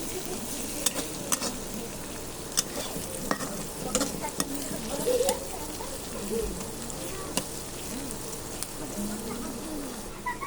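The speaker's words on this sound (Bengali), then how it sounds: "ভালোভাবে আমরা ভেজে নিব এখন" Onions frying in a pan for pasta, a steady close sizzle with occasional stirring clicks and scrapes running through the whole stretch, no talking over it.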